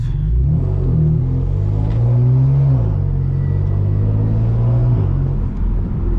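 A modified BMW M4 F82 pulls away on San Francisco streets, its engine rumbling steady and close from inside the car, the pitch rising and dipping as it accelerates through the gears.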